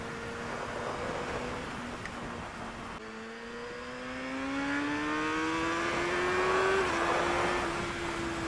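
A Kawasaki ZX6R motorcycle engine revs steadily and climbs in pitch, a loud, close whine rising over several seconds with wind noise behind it.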